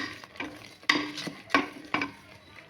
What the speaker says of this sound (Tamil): நல்லா கிண்டி வச்சுக்கோங்க.